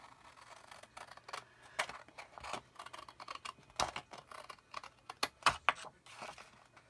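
Scissors snipping paper along a drawn line while making a travel expandable spine folio album: faint, close, irregular crisp cuts and rustles, several sharp snips clustered toward the end, with no talking.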